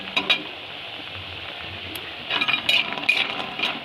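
Kumro bori, sun-dried lentil dumplings, frying in oil, a soft steady sizzle close by, broken by clinks and scrapes from stirring in the pan.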